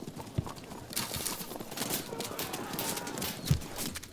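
Hooves of nomad light horse archers in the Field of Glory 2 strategy game clip-clop in a quick, continuous galloping patter, with a soft snort and a louder thud near the end, moderately close.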